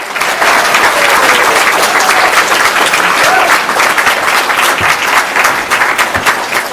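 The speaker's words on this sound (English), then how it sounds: "Let's hear a big round of applause for Minuteman Tim Donnelly." Loud, sustained applause from a political debate audience, dense clapping filling the whole stretch without letup, with a faint murmur of voices mixed in.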